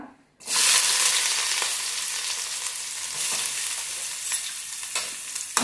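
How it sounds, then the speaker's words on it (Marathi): Finely chopped onion drops into hot oil and bursts into a loud, close sizzle that settles into steady frying with a few stirring clicks. "तेल गरम करून घेऊयात आता ह्याच्यात भलिया बारीक चिरलेला कांदा"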